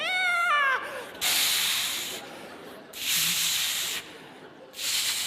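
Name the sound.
man imitating a cat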